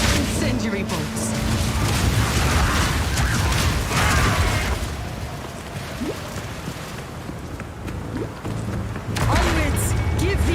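Incendiary bolts fire in the Path of Exile 2 video game, a run of heavy booming, crackling blasts with mechanical clanks that fade midway before swelling loud again at the end, under a continuous wash of game ambience.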